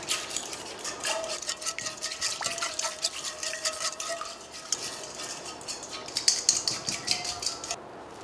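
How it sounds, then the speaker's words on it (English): A whisk clinks and scrapes rhythmically against a bowl as a coleslaw dressing with celery seeds and salt is mixed; the quick, fairly soft strokes continue steadily, with no talking. "celery seeds, and 1/4 teaspoon of salt. And we will whisk all of this together."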